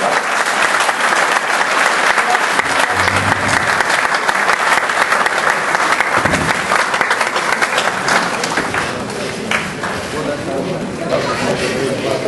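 Loud, dense audience applause at a gathering honoring the poet Faiz Ahmad Faiz, welcoming a guest with continuous clapping that fills the whole stretch without a break.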